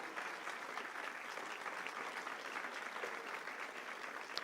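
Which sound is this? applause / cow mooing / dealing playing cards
applause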